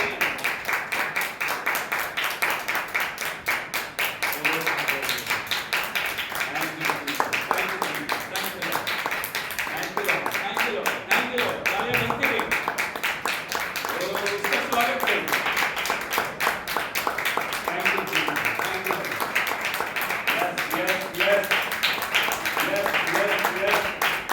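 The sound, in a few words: church congregation clapping hands in praise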